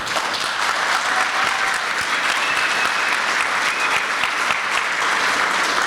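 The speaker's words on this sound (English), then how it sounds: "I think we all need a round of applause for that." Sustained applause from an awards ceremony audience at a long service awards evening, a steady dense roar of clapping hands that fills the whole stretch at even loudness with no talk over it.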